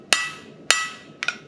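Blacksmith's hammer striking hot metal during forging: two sharp ringing strikes spaced about half a second apart, then a quick double tap, each blow leaving a bright metallic ring that decays, heard alone.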